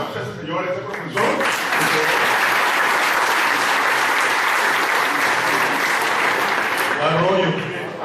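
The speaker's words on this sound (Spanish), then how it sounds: "vamos a darle un aplauso a ese señor, a ese profesor" Sustained applause from an audience at a salsa talk in Manizales, Colombia, honoring a professor; dense, even clapping fills nearly the whole clip at steady loudness, with a few voices just before it starts and as it fades.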